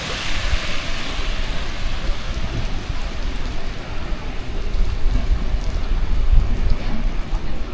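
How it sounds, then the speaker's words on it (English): Fine, wet rain falls steadily in Lanzarote, a continuous soft hiss with no pauses that thickens slightly toward the end. "Still raining, it's that wet rain."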